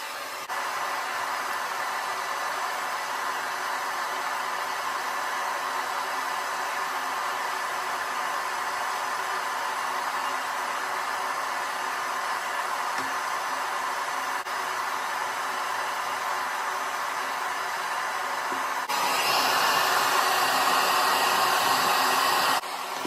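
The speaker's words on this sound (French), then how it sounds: "je viens donc les sécher avec mon sèche-cheveux de chez GHD" A GHD hair dryer blows continuously while drying long hair, a steady close whooshing hum that runs unbroken and grows louder and brighter near the end, probably from a higher setting or the nozzle moving nearer.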